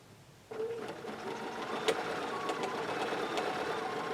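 Sewing machine with a BSR stitch regulator quilting curved lines with rulers, a steady close mechanical whir that starts abruptly and continues with faint ticks and clicks, no talking.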